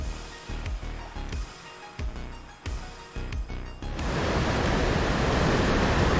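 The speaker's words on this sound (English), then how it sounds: "Water's so loud in this game." Loud water in the Ark Survival Ascended video game near a waterfall. A few seconds of rhythmic thumping surges give way to a steady, dense roar of rushing water and surf.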